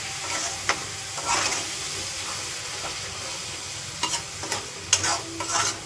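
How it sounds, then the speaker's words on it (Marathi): Tomatoes sautéing in a pan for chole bhature, a continuous sizzle and hiss with soft stirring scrapes that grow busier and clack a few times near the end. "टमाटर पण आपण चांगलं शिजून परतून घेऊया."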